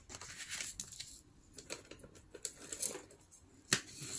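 A 12x12 sheet of paper folded by hand for a DIY wallet: crisp, close rustles and crinkles with a few sharp taps and creases, quiet between the movements.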